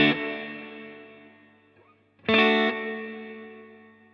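Peavey Classic 20 guitar combo amp sounding sustained chords with a shimmery, chorus-like warble riding the upper notes, ringing and slowly decaying, then a fresh strum rings out and fades again.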